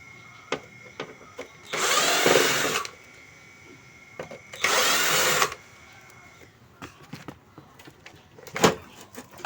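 A power tool, likely an electric screwdriver, runs in two loud bursts of about a second each while dismantling a Konzert 302 amplifier, with clicks and handling of screws and parts between them and a short final whir.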